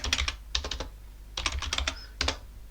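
Bursts of quick clicking keystrokes on a computer keyboard as a Linux terminal command is typed, in three or four short clusters separated by pauses, close and clear with no talking.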